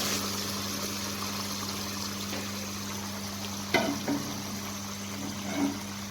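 Chana dal and its water poured into a pot of browned chicken, giving a steady sizzling, bubbling hiss with a faint hum and a couple of louder sloshing bursts near the end.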